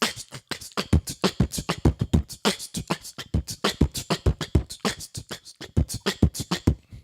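A drum beat pounds out dense, rapid hits in a steady syncopated groove, loud and close throughout with no talking.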